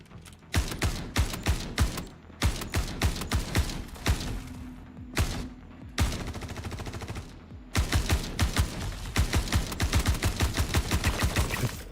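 Rapid bursts of gunfire in a shooter game, loud and close, with clustered volleys of sharp shots separated by brief pauses and a short stretch of steadier firing in the middle.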